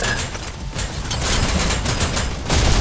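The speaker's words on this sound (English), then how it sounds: "Great headshot, Texas Toast." Rapid gunfire from a VR e-sports shooter match rattles in dense, continuous bursts for nearly three seconds, loud and without pauses.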